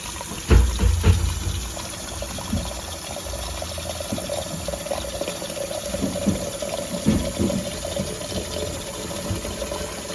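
Water runs and splashes steadily into a cooking pot for boiling potatoes, a continuous close pouring sound with small clunks near the start.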